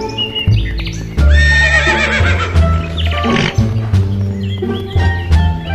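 A white horse neighs loudly in a long, wavering whinny, accompanied by clip-clop hoof beats and a few snorts, heard up close with no voices.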